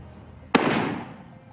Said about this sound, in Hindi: कैसे खालिस्तान समर्थकों को अमृतपाल गोलियां चलाने की ट्रेनिंग दे रहा है